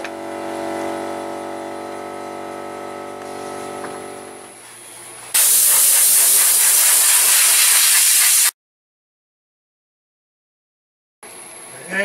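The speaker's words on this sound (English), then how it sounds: "Alright, turn on the air compressor, blow this fucking filter out." Air compressor nozzle blowing out a carburetor filter: a loud, harsh hiss of compressed air that blasts for about three seconds, cuts off to silence, then starts again briefly, after a droning engine-like hum at the start.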